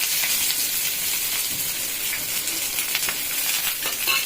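Chopped onion goes into hot oil already crackling with mustard seeds and chili, frying with a loud, continuous sizzle. Scattered sharp pops and spits run through it for the whole stretch, with no voices.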